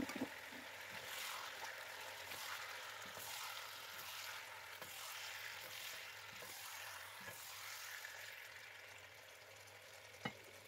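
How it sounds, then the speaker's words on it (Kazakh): Meat sizzles and fries in hot oil in a kazan for kuyrdak, a steady crackling hiss with occasional sharp pops and stirring clatters throughout, fairly close and continuous with no talk. "Енді қызып тұрған майымызға етімізді салып, жақсылап шамамен 15 минуттай қуырамыз."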